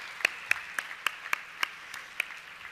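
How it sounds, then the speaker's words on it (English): Audience at a hotel awards lunch applauding the Marriott staff: a faint, sparse run of about nine separate handclaps at an even pace, fairly distant and quiet. "give a big round of applause to the Marriott staff"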